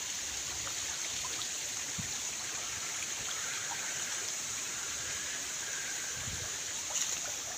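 Stream of water flowing down from higher ground outdoors, a steady continuous rushing wash throughout, fairly near and even in loudness, with no voices.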